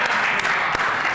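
Applause fills a legislative chamber during a House session, a dense, steady wash of many hands clapping at once, loud and continuous throughout.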